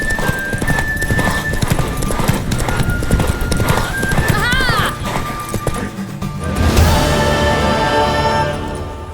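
Horse hooves clatter at a gallop in The Witcher 3 video game, a fast loud clip-clop rhythm with a neigh partway through, mixed with game sound and voices.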